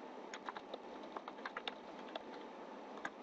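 Computer keyboard keys pressed to switch between Tamil and English fonts in MS Word using NHM Writer: a series of light, irregular key clicks, close and clear, with no speech.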